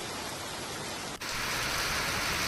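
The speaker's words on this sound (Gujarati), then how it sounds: "તો હાલોલ તાલુકામાં વરસાદી માહોલ।" Continuous hiss of rain falling steadily in Halol taluka, Gujarat, with a brief dip partway through before the downpour continues a little louder and brighter.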